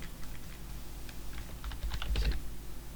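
Computer keyboard typing during 3D modeling software work, a quick irregular run of close key clicks with a denser burst near the end, no talking.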